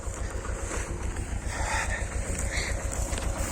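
A rough, worn tractor engine chugs steadily and loudly up close during ploughing, its rhythmic low thrum mixed with wind noise.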